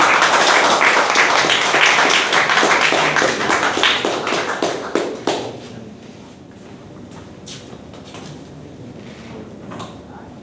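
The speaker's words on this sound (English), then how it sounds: "So please, with thunderous applause" A Toastmasters club audience gives a speaker a loud, brisk round of applause that lasts about five seconds and then fades into quiet room tone with a few faint taps.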